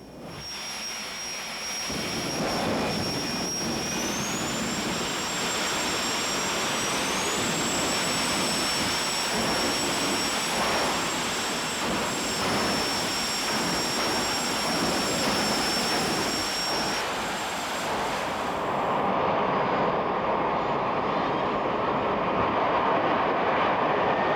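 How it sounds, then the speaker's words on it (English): A jet car roars down a quarter-mile drag strip with a loud, sustained blast, a high whine rising in pitch as it accelerates to 272 mph, the roar continuing strongly to the end. "You have the fastest jet car anywhere now"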